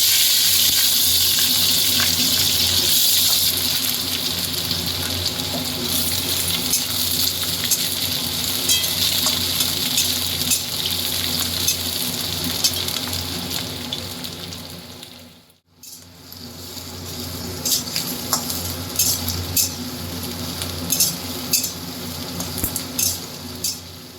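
Cauliflower stems fry in oil with panch phoron, a continuous loud sizzle with stirring clatter, briefly dropping out midway before the crackling frying resumes.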